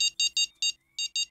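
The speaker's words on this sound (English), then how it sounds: "It's beeping a lot." Repeated electronic beeping of a fishing bite alarm in the Fishing Planet carp fishing game, six sharp high-pitched beeps in uneven bursts with brief gaps between them, clear and alone with no talk.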